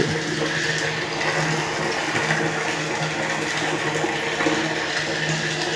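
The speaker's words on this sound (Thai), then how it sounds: "น้ำไหลไม่แรงเลยนะครับ" Water runs weakly from a tap in a steady, continuous rush that stays at an even level throughout, with no voices.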